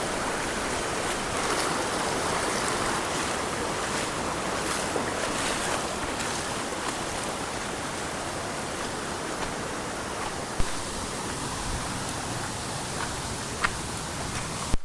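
A fast-flowing stream on a foggy trail toward Gupt Bhimashankar near Pune, Maharashtra, rushes as an unbroken broadband roar at a moderate level, with occasional faint knocks and no talking.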